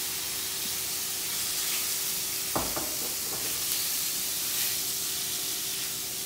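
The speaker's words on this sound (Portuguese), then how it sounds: "vou colocar o meu polvo todo fatiado. Então, vou colocar o polvo, mais azeite" Sliced octopus frying in olive oil with leek for arroz de polvo: a loud, steady sizzling hiss fills the whole stretch, broken once by a brief clatter of utensils partway through.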